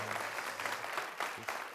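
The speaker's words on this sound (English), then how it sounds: "Let's give them a wonderful round of applause." Audience applause at an outdoor opera picnic event, a steady patter of clapping at moderate level with a low hum and some background murmur underneath.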